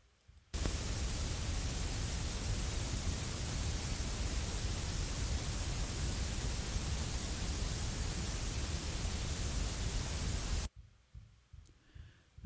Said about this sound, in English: gray noise, the way I would characterize it is it feels a little smokier than white noise